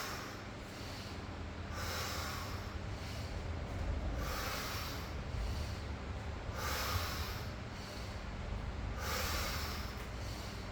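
Heavy rhythmic breathing from a person doing chest pushups in a home garage workout, slowing into several loud exhale bursts roughly every two seconds, close to the mic over a steady background hum, with no talking.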